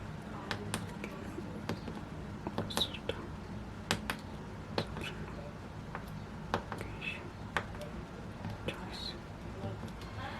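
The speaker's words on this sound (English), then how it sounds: "Now I will type the mobile number." Keypad buttons wired to an Arduino GSM project are pressed to dial a mobile number, giving faint, sparse clicks and taps over a quiet room background.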